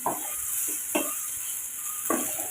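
Wheat flour noodles are tossed in a pan over a low background sizzle, with three distinct scraping strokes of a utensil spaced about a second apart, close and with no speech.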